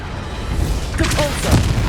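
A Confringo spell blast in Hogwarts Legacy, heard as a low rumbling boom with bursts of crackling impact layered over steady game noise, while a voice shouts briefly.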